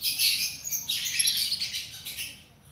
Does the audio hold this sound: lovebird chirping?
yes